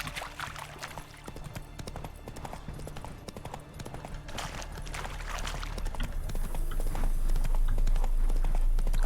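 Hooves of the horse Roach in The Witcher 3 clip-clop in a quick steady rhythm, a gallop growing louder and nearer toward the end, with no talk.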